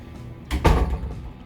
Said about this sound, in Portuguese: Fecha a porta, por favor.